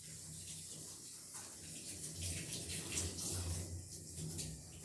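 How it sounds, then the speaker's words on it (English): Running water splashes and gushes as soap is rinsed from around a Mini Aussie dog's eyes during a grooming bath, a fluctuating, fairly soft spray with uneven surges. "I always rinse the eyes out just in case I did"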